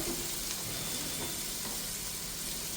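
Ginger and garlic frying in a pan for a chicken pasta, a steady soft sizzle and crackle with occasional stirring scrapes, close and fairly quiet, no voices.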